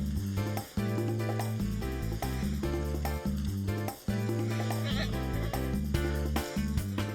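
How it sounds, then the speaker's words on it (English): Goats bleat repeatedly in wavering, nasal calls that overlap one another almost without a break, loud and close. "The goats are really not grazing animals."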